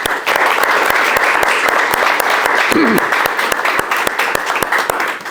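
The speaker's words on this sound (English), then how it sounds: "join me in a warm round of applause for Amory Lovins' briefings tonight" Sustained applause from a lecture audience at a Stanford energy talk, steady dense clapping filling the whole stretch at close range, with no speech over it.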